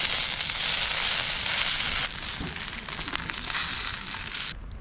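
Beyond Steak and other food sizzling steadily over a campfire at a campsite, a continuous bright crackling hiss that stays loud and close throughout, briefly easing midway, with no talking.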